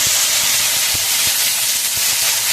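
Chopped tomatoes dropped into a hot pan with cumin seeds for a vegetarian aloo dum, giving a steady close hiss of sizzling with a few soft knocks throughout.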